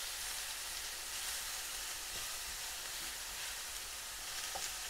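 Steak sears in a hot pan, sending up a loud, dense, unbroken sizzle that fills the whole stretch without any voices.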